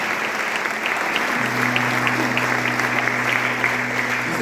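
Church congregation applauding during a worship service, a dense, steady wash of clapping from many hands, with a sustained organ or keyboard chord entering partway through.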